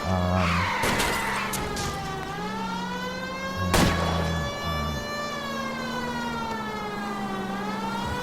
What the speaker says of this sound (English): Hit him, Cole! Spin him out!